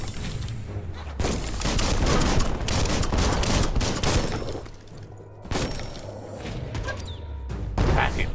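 Bomb lobber weapon in Biomutant: a dense run of booming blasts and crackling debris with shattering impacts, loud and close, broken by brief pauses before the barrage resumes.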